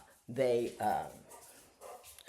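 Dogs indoors let out a couple of yipping, whimpering barks up close, then quieter whines, with a brief sharp sound at the end.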